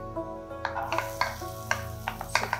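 Garlic sizzling in hot ghee for dhaba-style lasooni palak, a steady soft frying hiss with repeated light clicks of a spoon stirring the pan over a low constant hum.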